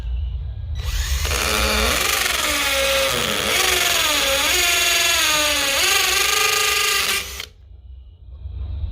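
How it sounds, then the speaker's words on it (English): A power drill bores into a brick wall of a home, one steady loud whine lasting several seconds with the pitch dipping and rising under load before cutting off. "So I'm gonna start drilling into this."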